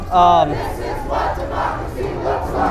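Marchers at an anti-ICE vigil in Kansas City chanting in rhythmic unison, close and loud, opening with a sharp whistle-like tone before the steady chant.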